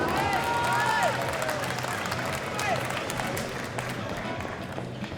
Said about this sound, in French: On peut applaudir, s'il vous plaît, on peut applaudir, mesdames et messieurs.